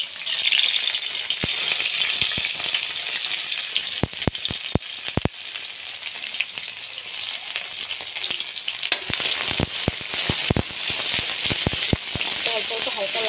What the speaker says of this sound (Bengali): অল্প অল্প হালকা লাল করে ভাজি